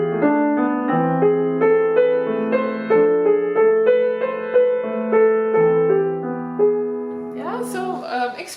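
Piano playing only the inner, non-melody voices of Tchaikovsky's Lullaby: soft, even repeated chords moving slowly, close and clear, with a brief burst of other sound right at the end.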